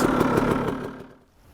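A KTM 300 XC two-stroke dirt bike engine revs loudly up close with a rapid, buzzy pulse, then fades and drops away toward silence within about a second.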